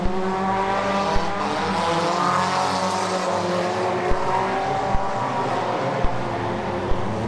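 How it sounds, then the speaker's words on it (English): A race car spinning out in the second turn at a dirt track, engines roaring loud and steady with tire squeal and skidding, sharp clicks punctuating the constant drone. "Oh, action in the second turn, already getting spun out."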